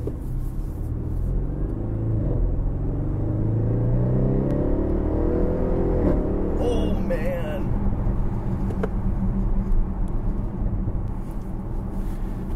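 A 2016 Audi RS7 driving, a low steady engine rumble and road noise heard from inside the cabin, swelling briefly as it accelerates, with a person talking faintly over it.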